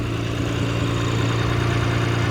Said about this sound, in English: I'm just gonna let the engine warm up